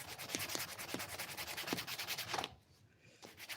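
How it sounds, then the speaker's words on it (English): Sandpaper scrubs back and forth across wood in a workshop, a loud rhythmic rasp of quick, regular strokes that stops abruptly near the end, leaving a brief quiet gap before a single faint stroke. "Jump right back on it with that sandpaper."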